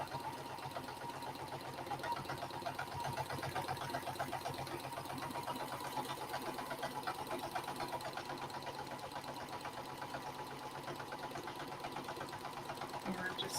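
Sewing machine running steadily through free motion quilting during a quilt fest demonstration, a continuous rapid mechanical stitching hum close by with a person talking over it.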